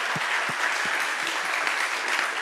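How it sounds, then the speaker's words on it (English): A room of participants at a family-bonding team game claps for a team after its points are announced: a dense, continuous patter of many hands at moderate distance, with little talk over it. "Clap for them."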